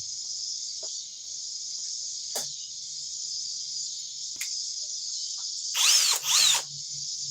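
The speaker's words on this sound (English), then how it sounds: "let's go with the drill" A cordless drill whirs steadily at high pitch, punctuated by a few sharp clicks, then revs up in two brief louder bursts near the end.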